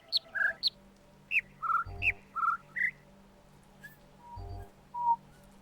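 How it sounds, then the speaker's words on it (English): Bright, clear bird songs in the video game The Witness: a sequence of short whistled chirps and notes at varying pitches, spaced irregularly over a quiet background. "at the moment, we're listening to bird songs"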